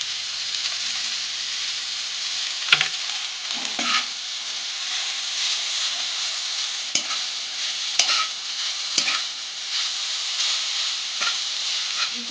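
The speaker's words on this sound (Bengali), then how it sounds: "এবারে আমরা চাউমিনগুলোকে ভালোভাবে ভেজে নেব।" Chowmein noodles frying in hot oil, a constant loud hiss of sizzling broken by sharp clanks and scrapes of stirring at irregular intervals.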